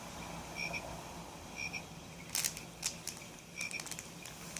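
Repeated frog croaks from a Fisher-Price Rainforest Mat baby toy, short electronic chirps in irregular bursts, clear and fairly close against a quiet background.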